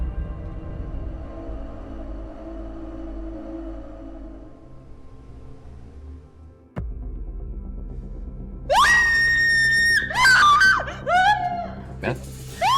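A woman's loud, shrill scream breaks out after a tense quiet stretch and a sharp thud, repeating in several piercing bursts close by in an Indonesian horror drama scene.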